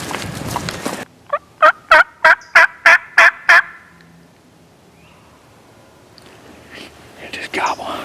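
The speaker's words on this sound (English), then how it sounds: "It just gobbled." A wild turkey on Georgia public land gobbles in a rapid burst of about seven loud, evenly spaced pulses, fairly close, followed by quiet outdoor air and faint rustling.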